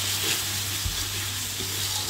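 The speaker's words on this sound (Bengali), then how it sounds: "এই তো আমার পেঁয়াজ রসুন কষানো শেষ" Onion and garlic frying in a pan on a clay stove while khichuri is being cooked, giving a steady hiss of sizzling with a low crackle and one soft knock partway through.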